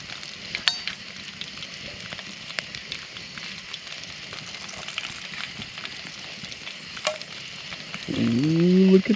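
Catfish fries in a pan over an open fire outdoors at night, a steady crackling sizzle with scattered pops, swelling louder near the end as a voice exclaims briefly.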